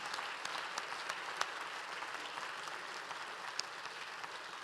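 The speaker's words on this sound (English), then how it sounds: "would you join me in applauding them and encouraging them in their work" An audience at a church annual conference business session applauds steadily, a dense even patter of many hands clapping at moderate distance, sustained throughout with no talking.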